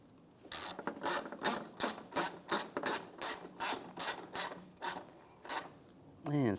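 A ratchet wrench clicks in about a dozen quick bursts as a 10mm nut is snugged onto a stud holding the coolant reservoir of a 1998-2010 Volkswagen Beetle, close and steady, with no talk.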